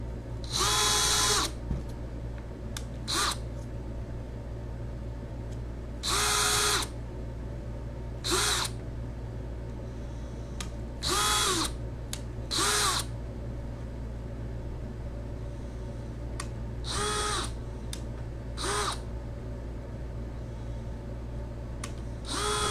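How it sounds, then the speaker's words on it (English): Short bursts of a power drill boring into wood, about eight separate runs of a second or so each, with a steady low hum between them. "I want to drill a pilot hole for the screws, to prevent cracking of the wood."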